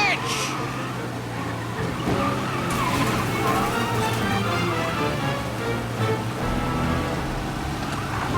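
Cars chase each other in the video game Mafia: Definitive Edition, with roaring engines and squealing, skidding tires in a loud continuous rush, while voices talk over the noise.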